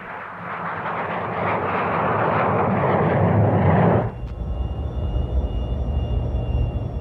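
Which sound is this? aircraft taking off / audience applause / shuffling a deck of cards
aircraft taking off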